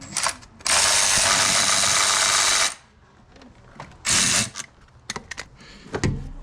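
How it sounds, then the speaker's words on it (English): Ratchet wrench loosening two 10 mm bolts on a BMW N54 valve cover, heard as two loud bursts of rapid clicking, the first long and the second short, with scattered tool clinks between them and no talking. "There's two 10 mils on the valve cover. Just remove those."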